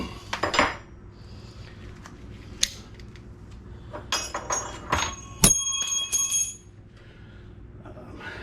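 Metal wrench clinking and ringing during fork seal work on a Yamaha WR250R motorcycle, with several sharp, bright metallic clanks and jingles close by, some quick and clustered, others isolated.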